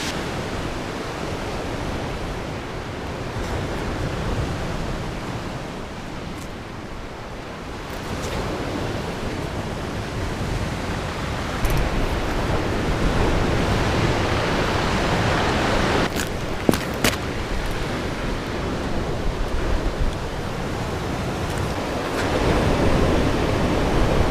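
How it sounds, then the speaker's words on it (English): Big winter waves rolling onto a beach, a broad continuous roar of surf with wind buffeting the microphone, loud and unbroken, swelling slightly in places with no voices. "But out here you won't see it, but big waves coming in."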